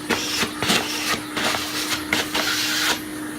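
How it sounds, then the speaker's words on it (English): A vacuum draws dust out of drilled holes in a wood workpiece, a steady close whooshing hum with repeated short bursts of louder suction as the nozzle moves from hole to hole. "So what I do is I vacuum out every hole."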